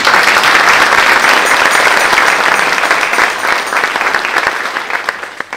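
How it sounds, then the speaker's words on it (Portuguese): Loud, dense applause from a large crowd at an anniversary concert, sustained and then gradually thinning out toward the end. "Presidente da Direção, Isabel Maciel, uma salva de palmas."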